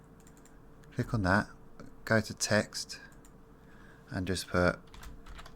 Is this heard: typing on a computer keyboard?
yes